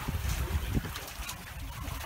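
Sailboat under way on Lake Huron: a steady wash of water and wind rushing against the hull, close and continuous with low rumbling gusts, no distinct voices.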